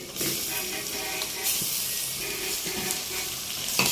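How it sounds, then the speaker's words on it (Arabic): Meat pieces hit a pan of browned onions and sizzle with a steady, close hiss, interrupted by a few stirring clacks and scrapes, with no talking. "ولما البصل عندي يبتدي ياخد لون بالشكل ده، هبتدي انزل بقطع اللحمه بتاعتي."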